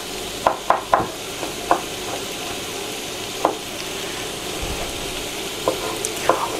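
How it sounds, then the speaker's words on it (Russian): Buckwheat and mushroom cutlets frying in a pan, with a constant close sizzle broken by several sharp clicks and taps of a utensil against the pan. "Ну и все, жарим, пока не пожарим."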